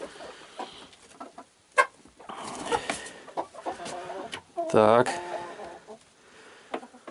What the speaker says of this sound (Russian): Вот петушки начали драться.